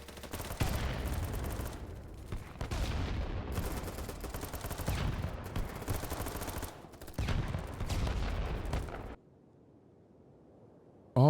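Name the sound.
submachine gun firing in video game BattleBit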